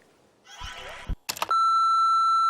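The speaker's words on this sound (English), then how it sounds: "Here's Norton on the lobbyist's answer phone" A long, steady electronic answering-machine beep on a lobbyist's answer phone, loud and sustained after a short burst of rustling and clicks as the machine engages.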